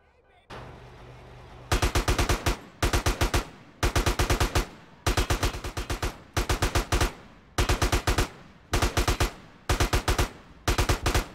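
Automatic M4 rifle fire in GTA San Andreas, loud repeated bursts of rapid shots separated by short pauses, following a low hum at the start.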